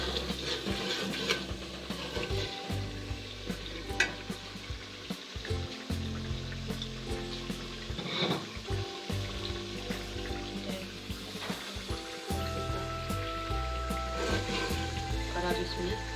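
Curry leaves and crushed dry coriander frying in ghee for kadhi pakora give a steady, continuous sizzle that runs the whole length, with soft stirring and some faint background sound underneath.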